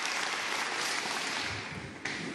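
Spectators in a large snooker arena applaud, a dense burst of clapping that swells, dips briefly and picks up again, heard alone.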